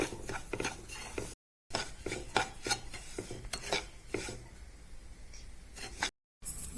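Semolina being roasted in ghee in a pan, heard as steady close scraping and stirring with a spoon against the metal, a busy rasping texture that is broken by two brief silent gaps.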